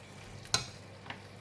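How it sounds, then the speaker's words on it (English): A spatula knocks once sharply against the wok, then scrapes lightly, while a ginger pork stir fry with black fungus and a flour mix sizzles softly underneath. "Just give it a stir"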